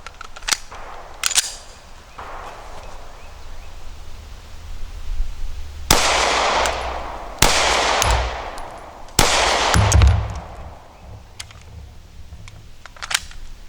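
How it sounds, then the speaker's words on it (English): Several sharp gunshots from a handgun being test fired with aged ammunition, loud and close, a few well spaced single reports with echoing decay and quieter clicks and handling noises between them. "All right, so we're going to take a few more shots now."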